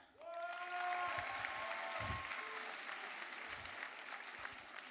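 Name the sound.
audience applause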